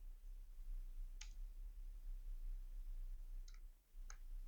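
A few sparse, faint clicks against a quiet low hum, like isolated keypresses spaced out over a few seconds.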